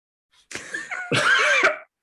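A person gives a short, exaggerated cough, two throaty bursts, the second longer and louder, close to the listener with no other sounds.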